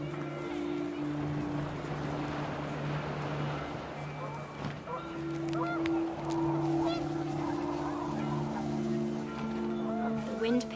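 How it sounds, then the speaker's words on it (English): Panicked geese honk in the video game What Remains of Edith Finch, a flurry of cries over a steady droning tone with a voice talking alongside. "The wind picked up and panicked geese appeared and quickly went."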